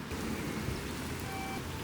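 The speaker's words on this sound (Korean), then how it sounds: "지금 최악인 게 뭐냐면 비가 와요." Steady rain falling outdoors in a small Japanese city, a dense continuous hiss with no voices.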